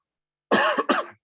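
A person coughs twice in quick succession, close and loud, with a short gap between bursts and a faint throat sound trailing off.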